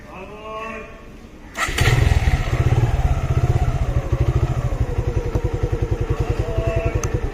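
A motorcycle fitted with a remote-controlled security device starts up and settles into a steady, loud idle with a rapid, even putter, while a voice speaks softly beforehand.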